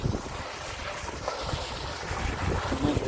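Gusty wind buffets the microphone on a village farm, a rough rumbling roar that rises and falls, slightly stronger toward the end.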